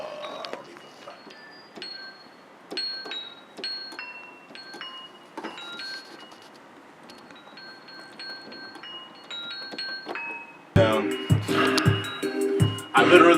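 A sampled bell plays a repeating melody of clear, ringing tones in a hip-hop beat; a loud, dense full beat with heavy drums crashes in for the last few seconds.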